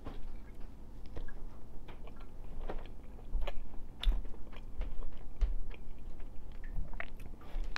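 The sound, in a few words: eating mug bread pudding with strawberries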